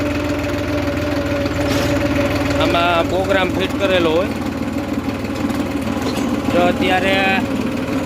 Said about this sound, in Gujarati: અત્યારે જો મિત્રો હું ટ્રેક્ટર હાંકું અને ટ્રેક્ટર જો એની રીતના હાલે ઓટોમેટિક